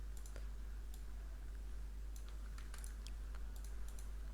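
Computer keyboard typing, quick irregular key taps in short bursts, close but quiet against a low steady hum.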